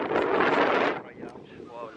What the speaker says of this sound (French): le vent est hyper fort